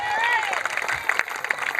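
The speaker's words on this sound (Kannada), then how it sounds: "ಚಪ್ಪಾಳೆ ಹೊಡೆದ ಧನ್ಯವಾದಗಳು" Audience applause at a school annual day function, a patter of claps running under a sung or spoken voice over a hall's crowd noise.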